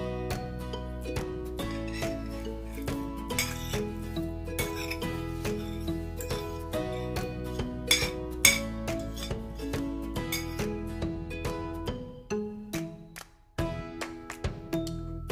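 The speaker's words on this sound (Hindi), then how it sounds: "ये अब मैं एग में डाल दूंगी और इसको मिक्स कर लेंगे।" Eggs and spices are beaten in a bowl for an omelette, with rapid, repeated clinks of a utensil against the bowl running steadily and close, then slowing into a few scattered taps near the end; no one speaks.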